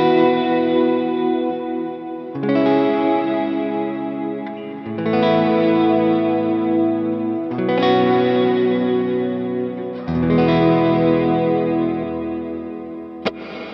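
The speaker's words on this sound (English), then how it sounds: "I grabbed the glitz reverb, brought the decay up, I brought the mix up a bit" Electric guitar played through a Line 6 POD Go with glitz reverb and modulation, decay and mix raised: five sustained, shimmering chords struck about every two and a half seconds, each washing into a long, wet reverb tail, with no talking.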